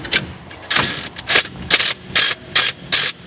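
A ratchet wrench backs off a nut on the steering of a K10 square-body truck, a rapid run of loud, close metallic clicks in short rhythmic bursts with brief pauses between strokes.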